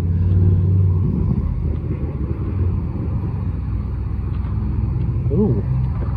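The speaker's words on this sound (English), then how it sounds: "is that a wide body Urus?" Wide-body Lamborghini Urus driving past as cars leave a supercar festival, a steady loud engine rumble that stays near for several seconds, with brief voices in the background.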